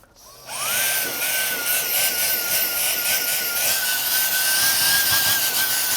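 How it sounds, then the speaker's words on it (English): Steady whirring motor of a Shark StainForce cordless spot and stain cleaner scrubbing a stain, loud and close, with a high whine and rhythmic brushing texture running unbroken for several seconds, no talking. "Just a little bit more scrubbing."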